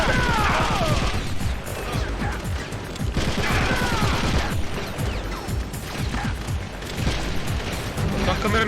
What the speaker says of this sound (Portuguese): Tem uma câmera me atirando também, velho.